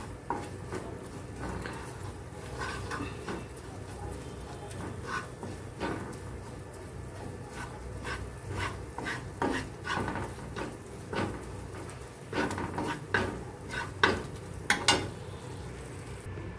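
Cornflour is stirred into a butter garlic egg mixture in a pan. Soft, quiet scraping and tapping of the spoon comes in uneven bursts, with a few louder clinks toward the end.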